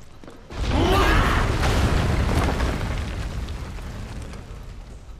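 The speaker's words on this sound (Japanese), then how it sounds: "爆発止まらねえな。" Explosions in the Final Fantasy VII Remake video game: a deep boom bursts in after a short quiet lead-in, then a long loud rumbling roar slowly fades with debris crackle, no talking.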